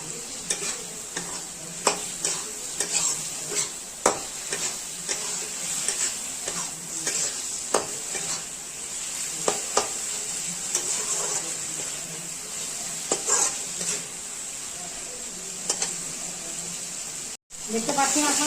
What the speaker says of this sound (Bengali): দেখতে পাচ্ছেন আপনারা আমাদের মশলাটা একদম ভাজা হয়ে সুন্দর তেল ছেড়েছে